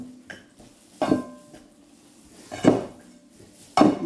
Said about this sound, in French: Je mélange les ingrédients qu'on a rajoutés.